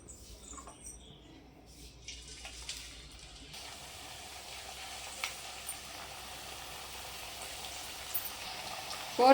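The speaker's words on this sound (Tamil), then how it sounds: "இப்போ ஒவ்வொன்றா எடுத்து நம்ம எண்ணெயில் போட்டுடலாம்" Thattai, a traditional Diwali rice snack, dropped piece by piece into hot oil, giving a steady, moderately loud sizzle and crackle that swells midway and continues without speech.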